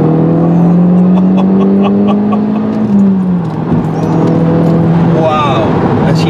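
A turbocharged Renault Megane RS hatchback with manual gearbox accelerates hard, its tone rising then dipping at a gear change before climbing again, with a faint jingle of keys.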